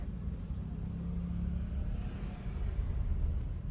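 A car driving through traffic on the road up to Mussoorie, a continuous low engine rumble and road noise from inside the vehicle, steady and fairly loud, with no talking.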